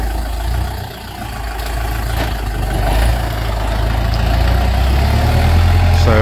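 A tractor engine idles steadily at a rural building site in Thailand where truckloads of fill are being dropped. The low, continuous rumble stays close and fairly loud throughout, with no talking.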